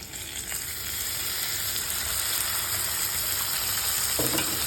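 Ground coriander, cumin and other spices sizzle loudly in a hot pan, a dense continuous hiss that steadies after a brief start, ending with a sharp clatter as water is added.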